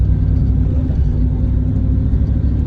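A manual transmission car pulls away as the clutch is released, giving a steady, loud, low engine rumble from inside the cabin, with no voices.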